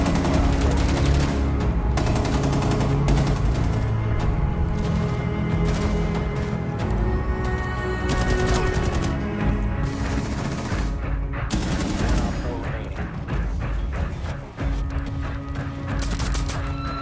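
Rapid gunfire in Rainbow Six Siege, with dense bursts of automatic shots and crashing impacts sustained loudly from start to finish over a busy in-game soundscape.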